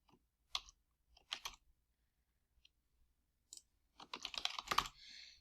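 Sparse clacking keystrokes on a computer keyboard, then a quick burst of faster typing near the end, close and quiet.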